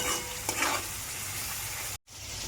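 Soaked soybeans tipped into a hot pan of gravy and stirred, giving a steady frying sizzle with a brief scraping stir near the start and a short cut-out near the end.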